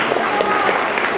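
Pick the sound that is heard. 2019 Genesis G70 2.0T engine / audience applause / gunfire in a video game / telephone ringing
audience applause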